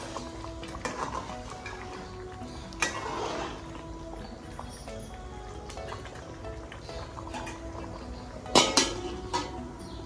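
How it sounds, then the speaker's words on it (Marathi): Egg biryani simmering in a pot as it is stirred, with soft scraping and bubbling over steady low background noise and a couple of sharper utensil knocks against the pot. "आता आपण याला एकदा हलवून घेऊया आणि बारीक गॅस करून शिजवू देऊया झाकण ठेवून"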